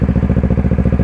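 Kawasaki ER6N 2012 motorcycle engine running steadily just after starting, a loud, close, even pulsing idle with a rhythmic throb and no talk.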